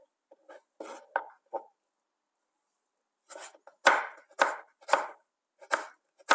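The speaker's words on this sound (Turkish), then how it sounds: "Turbumu da hemen aynı şekilde jülyen olarak doğruyorum." A small radish is chopped into julienne strips with a knife on a board, giving short bursts of crisp, close cuts: a few light taps, a pause, then a quicker run of firmer chops.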